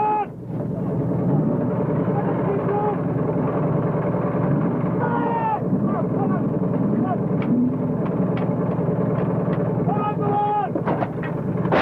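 Allied artillery firing during Desert Storm, heavy booming shots over a continuous loud rumble across the clip, with a voice talking over it.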